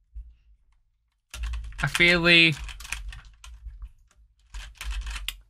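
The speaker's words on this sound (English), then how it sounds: "you get a little resistance when pushing across as well as down the keys" Keys clatter on an AOC GK500 mechanical keyboard, a quick run of close clicky presses with someone talking over and around the typing.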